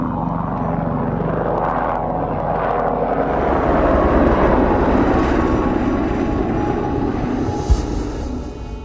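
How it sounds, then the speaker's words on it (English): A helicopter passes over the Khumbu region of the Himalayas, its rotor and engine drone steady and fairly loud throughout, swelling slightly midway as it nears, with no talk. "Helicopters, however, fly frequently."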